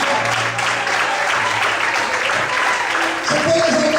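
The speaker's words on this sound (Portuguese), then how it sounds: "Você pode aplaudir o Senhor?" Loud applause rolls through a church congregation, dense continuous clapping from many people at an even volume, with organ-like tones and murmuring voices underneath.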